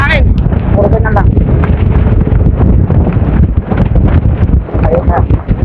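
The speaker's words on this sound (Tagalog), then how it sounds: "Napakalakas ng hangin. Grabe, lakas ng hangin" Strong wind buffets the microphone during an outdoor bicycle race, a continuous loud low rumble that swells and dips throughout, with someone talking over it.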